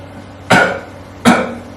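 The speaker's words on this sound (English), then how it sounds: "if you put your hand on your stomach and cough" Two sharp, loud coughs about three-quarters of a second apart, done deliberately to engage the diaphragm, each a sudden burst that trails off quickly in a quiet room.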